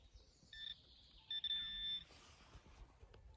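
A few thin electronic beeps and a sustained high tone from a handheld metal detector, with faint rustling and crackling in the background.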